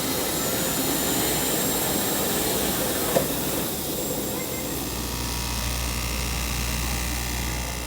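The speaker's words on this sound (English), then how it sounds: "This is one of our CNC cutters. It digitally takes what we draw and then cuts it for us on the vacuum table here." CNC cutter cutting van seat parts on a vacuum table in a seating department workshop, a steady loud whooshing roar of suction and machine noise throughout, shifting to a deeper hum partway.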